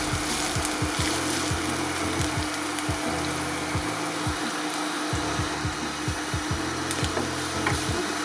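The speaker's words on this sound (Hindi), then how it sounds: "प्याज को एक दो दफ़ा हिलाते हैं" Onions sizzle in oil in a karahi while being stirred a couple of times, a steady loud frying hiss with repeated scraping and knocking of the utensil against the pan.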